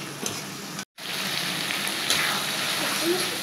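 Pangas fish frying with potato and onion gives a dense, loud hiss of sizzling oil with faint stirring, briefly cut to silence for a moment before the sizzle resumes.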